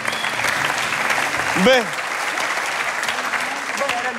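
Studio audience on a French-language TV entertainment show applauding steadily, dense clapping throughout with a voice briefly cutting through near the middle.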